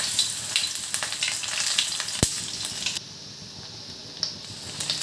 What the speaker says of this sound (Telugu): ఇప్పుడు ఆయిల్ హీట్ ఎక్కిన తర్వాత మిక్స్ చేసుకుని పక్కన పెట్టుకున్న నెత్తళ్ళను వేసుకోవాలి.